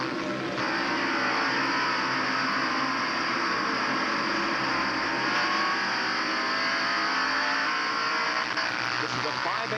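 Onboard sound from Brett Bodine's Quaker State Buick stock car at the 1990 Tyson Holly Farms 400 on a hilly 5/8-mile track: a loud, continuous engine drone with steady revving, close and unbroken throughout, with a commentator talking over it.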